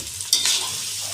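Minced meat drops into a hot pan of balado spice paste and bursts into a loud, steady sizzle, with a brief stirring scrape as it settles.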